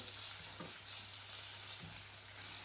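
Fish frying in coconut oil in a pan gives a steady, close, hissing sizzle throughout, with a couple of soft clinks of stirring or handling and no talk.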